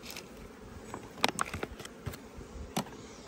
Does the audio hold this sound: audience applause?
no